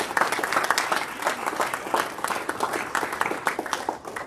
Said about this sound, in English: please give a big East Chapel Hill Rotary round of applause